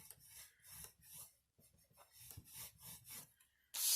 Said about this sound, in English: So we're going to score at a 1/2 inch.